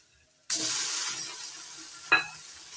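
Ground cauliflower leaves hit a hot pan with oil and fried onion, garlic and black cumin, setting off a sudden loud, steady sizzle, followed by a second sharp crackle as they are stirred.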